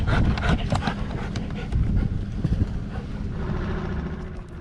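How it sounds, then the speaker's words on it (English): A dog pants rapidly and continuously close by, with rustling and some background noise throughout. "What are you barking at?"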